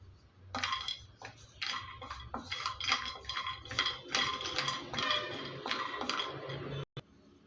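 Cashews and almonds being dry-roasted and stirred in a pan, giving a rapid run of close, bright clicks and rattles as the nuts tumble against the metal, with a low hum underneath.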